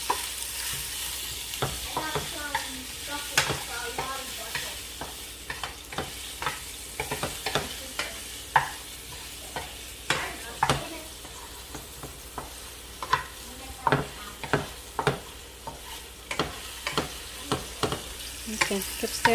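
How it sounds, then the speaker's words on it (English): Garlic frying in a pan while someone stirs it, a soft sizzle under many sharp spatula scrapes and taps in an uneven rhythm, close and moderately loud. "Now stir it."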